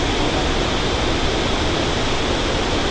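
A swollen river in flood near the Marsyangdi hydro site, rushing with a loud, dense and unbroken roar of churning water close by.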